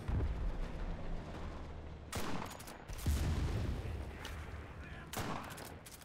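Gunfire from the WWII shooter Enlisted, with sharp broadband shot bursts in clusters around the middle and end over a dense battle rumble, fairly close and loud.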